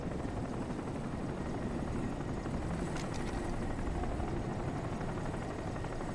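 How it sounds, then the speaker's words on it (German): A helicopter in the shooter game Crysis: a steady, fairly faint rotor drone holding evenly throughout, with no speech over it. "Da ist doch ein Heli."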